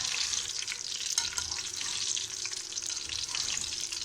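Bell peppers fry in a pan with a steady, dense sizzle and crackle that continues unbroken throughout, close and fairly loud with no talking.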